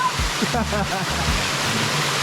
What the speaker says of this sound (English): Hear the sound of the water, it's all natural